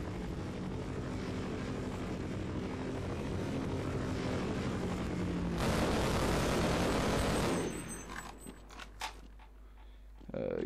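A helicopter flies in the video game Half-Life, its rotor-and-engine roar loud and steady before cutting off abruptly, followed by scattered clanks and bumps.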